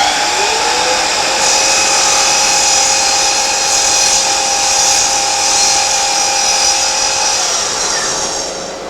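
A power saw cuts through a piece of wood in a workshop, giving a loud, steady, high-pitched whine that holds almost unbroken before easing slightly as it finishes.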